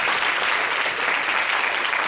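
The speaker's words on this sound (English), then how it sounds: "I want to give a big round of applause for Margaret." An audience applauds honoree Margaret, a dense, steady burst of clapping from many hands that holds at even loudness throughout, with no voices standing out.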